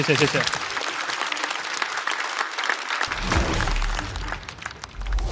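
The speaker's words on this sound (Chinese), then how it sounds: "再次掌声送给李文，谢谢" Audience applause fills a stand-up comedy show, dense and steady throughout, with a host speaking over the clapping.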